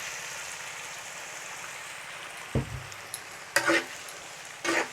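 Water hits hot frying masala for a singi fish bhuna, giving a steady close hiss of sizzling, then a few louder bursts of bubbling and stirring near the end.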